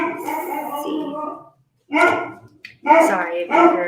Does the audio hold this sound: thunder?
no